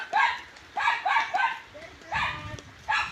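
Several dogs bark in short repeated bursts, fairly close, with yips between barks and some outdoor background noise.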